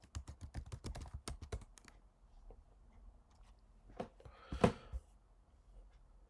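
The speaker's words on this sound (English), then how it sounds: "that you have to type msf console" Fast, crisp keystrokes on a computer keyboard form a quick burst of clicks, then a pause, then a few scattered taps and one louder clack, all close and quiet with no voices.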